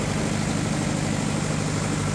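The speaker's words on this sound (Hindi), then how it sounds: "देख सकते हैं बिल्कुल साफ इंजन चल रहा है" A Tata 709 turbo diesel engine driving a 50 kVA single-phase generator set under full heater load runs with a steady, loud, dense droning rumble, constant throughout with no pauses or voices.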